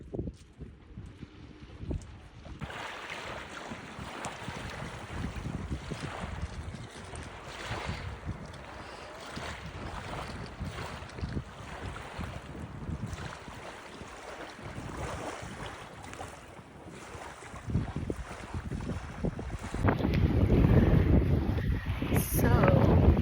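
A sailboat under way during a race, with steady wind buffeting the microphone and water rushing past the hull throughout, growing louder and rougher toward the end.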